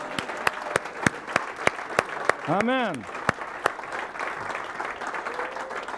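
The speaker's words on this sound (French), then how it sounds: "Est-ce qu'on pourrait applaudir l'équipe olympique du Seigneur" A church congregation at a French-language Sunday service applauds its worship team, distinct claps in a steady beat with a brief vocal exclamation and speech in the room.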